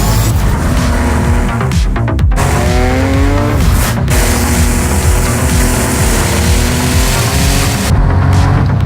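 Race cars from Project CARS 2 scream past at full throttle, a loud continuous engine roar with rising and falling pitch sweeps and gear changes, dense and close throughout.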